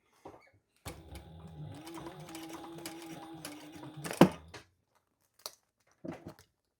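A sewing machine runs a steady top stitch along a bum bag for about three seconds, then stops, followed by a few soft clicks and handling noises nearby.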